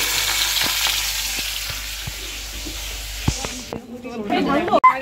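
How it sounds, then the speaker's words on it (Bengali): Fish fries in oil with a steady, hissing sizzle and scattered pops; the frying fades near the end as a voice speaks. "এদিকে অলির ল্যাটা মাছটা ভাজা বসিয়েছি।"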